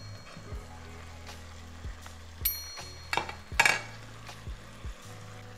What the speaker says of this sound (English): We can go ahead now and add in the beef, all the juices and everything.